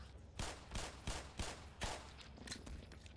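Gunfire in the video game Black Mesa, a Half-Life recreation, comes as a quick run of about five or six punchy shots in an uneven rhythm, fairly close but quiet in the mix.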